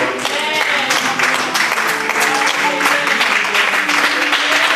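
A church congregation claps and cheers in praise, a dense continuous applause close and loud with voices mixed in.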